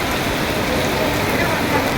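Steady heavy rain pours down during the monsoon in Ambala, a dense, even hiss of drops on surfaces with no break over the short stretch.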